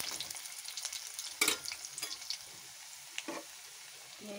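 Potato pieces frying lightly in hot oil for a chicken dish give a soft, steady sizzle with several sharper bursts of stirring and scraping, fairly quiet and without voices.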